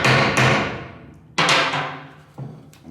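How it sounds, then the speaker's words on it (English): A hammer strikes a hole punch through soundproofing laid on wood during a Classic Mini rebuild, giving three sharp, close blows with ringing decays, the first two quick in succession and the last softer. "all you do is just basically put them on the wood, pick up your hammer"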